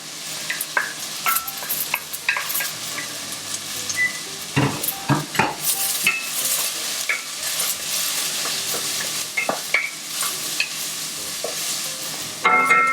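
Onion, garlic and ginger frying in a pan for an eggplant curry, a steady sizzle with repeated spoon scrapes and clacks against the pan as it is stirred, no talk.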